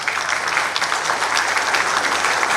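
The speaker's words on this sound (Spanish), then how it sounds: "Aplausos, por favor." Audience applause at a seismic-risk engineering forum in Peru, a dense, steady wash of clapping from many hands lasting throughout, fairly loud and close with no talk over it.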